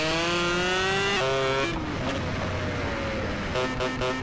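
A Yamaha RD motorcycle engine in the GTA video game revs loudly and close, in steady harmonic drones that step up and down in pitch as the bike shifts. A rushing roar follows, with no talking.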